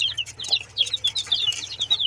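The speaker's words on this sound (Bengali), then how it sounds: "এই যে আমার মুরগির বাচ্চা আবার ফুটেছে" Newly hatched domestic chicken chicks, about twenty of them, peep continuously in high, thin, overlapping chirps close by, under a low steady hum.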